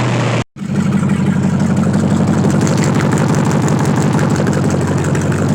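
A front-wheel-drive Lincoln Cobra car engine with a slipping transmission idles steadily with a deep, rough rumble after a brief cutout near the start, continuous and close.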